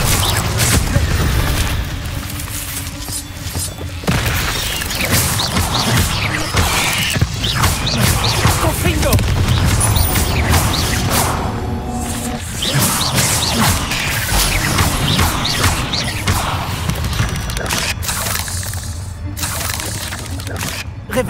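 Bombarda and Confringo spells from Hogwarts Legacy firing repeatedly as a series of loud crashing explosions and bursts, with rattling debris and mechanical clatter, dense and sustained throughout.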